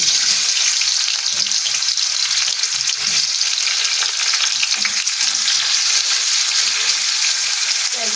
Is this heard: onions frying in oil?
yes